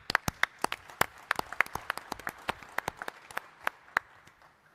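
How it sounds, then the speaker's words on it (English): A small audience at a military symposium gives a round of applause, a sparse patter of individual claps spread evenly over several seconds at moderate distance, with no talk over it. "Let's give him a round of applause."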